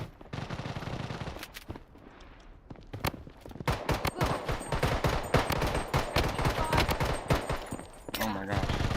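Gun in a video game firing in long rapid automatic bursts, dense loud cracks packed together after a brief quieter pause, with some talking mixed in.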